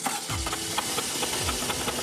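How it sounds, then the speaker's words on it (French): A Fiat 500 engine runs roughly, with a lumpy, uneven idle, periodic knocking thumps and a rattling mechanical chatter, heard close and alone with no talk. "Son moteur tourne mal"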